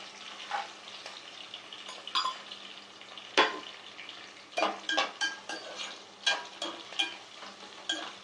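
Cashews sizzle steadily in a hot pan with green chillies, with repeated scraping and stirring clatters and one sharp metallic knock, and no voices.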